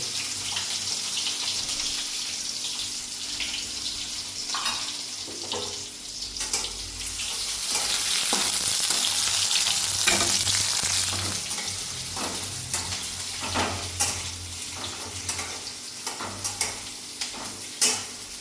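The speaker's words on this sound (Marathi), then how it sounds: "तर आता त्यात कांदा टाकून घ्यायचा आहे." Chopped onion fries in oil with reddened garlic, giving a steady close sizzle that swells in the middle, with scattered stirring scrapes and clicks throughout.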